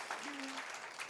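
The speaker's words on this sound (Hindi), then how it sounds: "ताली बजा देंगे" A church congregation at a Sunday service claps together in a brief, steady burst of applause, heard at a distance and fairly faint, with a voice rising over it.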